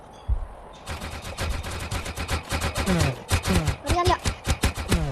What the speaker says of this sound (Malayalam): നിങ്ങൾ അവിടെ വെടി വെക്കി എന്താണ്